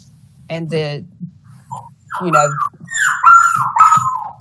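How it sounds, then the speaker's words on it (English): A new puppy whines indoors in a few high, wavering squeals and whimpers, fairly loud and close, coming in short bursts separated by brief pauses. "We have a new puppy in the house. If you hear some background whining, it's not me."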